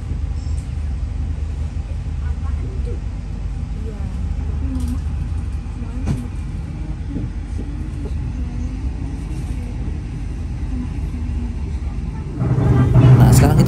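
The KA Lodaya economy train crosses the Cirahong bridge between Manonjaya and Ciamis stations, heard from inside a carriage. Its loud, steady low rumble carries a few knocks and swells louder at the end.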